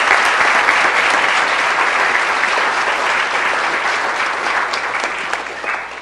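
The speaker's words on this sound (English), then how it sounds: "giving them a round of applause" Sustained applause from a crowd at a city council meeting, honouring volunteer youth basketball coaches; dense, steady clapping that fills the room and fades slightly toward the end.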